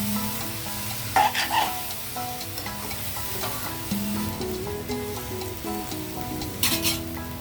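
Cauliflower sizzles gently in a pan with turmeric and salt, a continuous soft frying hiss broken by occasional stirring clatters and scrapes, with a faint tonal background underneath.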